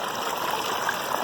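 Water rushes steadily through a gold mining sluice with 2x4 riffles, a close, continuous gurgling flow with no voices.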